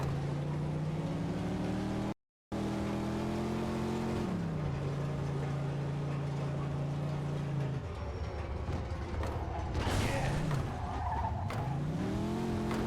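A car in the video game Mafia II: Jimmy's Vendetta drones with a steady engine hum, shifts pitch, then crashes in a loud noisy burst around the later part, with one brief dropout early on.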